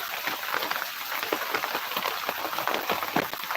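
Heavy rain pours steadily in Konkan, a dense, continuous hiss of drops on surfaces with no voices, loud and unbroken throughout.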